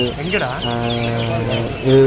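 Chickens at a wholesale pet market in Shivaji Nagar, Bengaluru, cluck loudly and close in quick throaty bursts, ending in a louder squawk.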